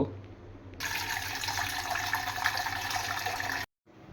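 Water runs steadily from a household filter into a vessel for making milk tea, a continuous bright stream lasting about three seconds that stops abruptly, with low background hum.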